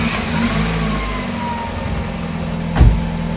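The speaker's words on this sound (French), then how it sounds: "On va mettre un coup de démarrage, on va voir ce qu'elle fait la voiture." A car engine boosted by a Hulkman Alpha 85 jump starter hums steadily up close, then gives a short, louder surge near the end as it catches and revs.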